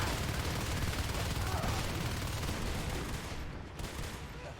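Shotguns blast in rapid overlapping volleys during a Natural Selection 2 firefight between marines and Skulks, dense and loud, easing slightly near the end.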